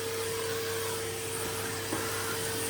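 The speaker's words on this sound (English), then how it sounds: "basically to vacuum up the dust and the soil off this table" A vacuum cleaner runs steadily in a Victorian conservatory garden room, sucking dust and soil off a table, a constant whining drone with a sharp tonal hum, moderately loud and unbroken.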